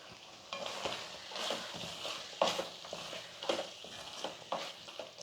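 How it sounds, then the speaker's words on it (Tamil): Roasted ground masala is stirred into cooked chicken in a pan for pepper chicken fry, giving a quiet, close sizzle broken by rhythmic scraping strokes of the spoon, with no one talking. "இப்போ வந்து நம்ம வறுத்து அரைச்ச மசாலாவை சேர்த்துக்கலாம்"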